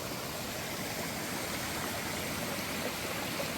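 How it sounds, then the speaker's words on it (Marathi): A waterfall on a trekking trail near Kothaligad fort in light rain rushes in a dense, unbroken roar that holds at a constant level throughout. "पण हा धबधब्याचा जो आवाज आहे, हा हा हा, सुखावणारा, कंटिन्यू बरोबर, नॉनस्टॉप."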